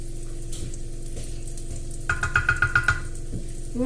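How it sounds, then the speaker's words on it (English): Onions tipped into an already very hot wok for fried rice set off a steady sizzle, with a short run of rhythmic scraping taps midway, close up and without speech. "So we're just going to stick all of the onions in."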